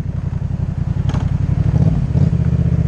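A motorcycle engine idles and rumbles nearby with a steady low throbbing pulse, slightly swelling toward the end as if about to pull away.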